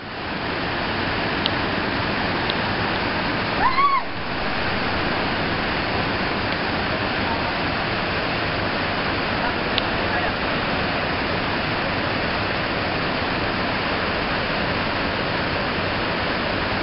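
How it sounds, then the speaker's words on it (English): Rain-swollen streams and waterfalls on Mount Halcon during non-stop rain make a constant, dense rushing roar that fills the whole stretch evenly, with a brief disturbance near the start. "The non-stop rain have swelled the streams and waterfalls of Mount Halcon."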